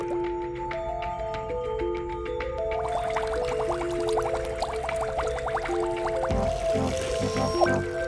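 Watering a sprouting plant in the Dreams PS4 game intro, with soft liquid drips and squishy trickling sounds layered over a bright, steady musical score that swells partway through.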